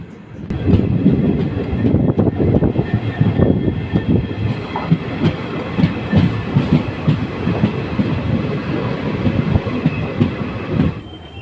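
A passenger train on the KSR Bengaluru–Challakere route rolls into Chikkajajur Junction, a steady loud rumble of wheels and carriages with rhythmic clattering over the rails, sustained and close for the whole stretch.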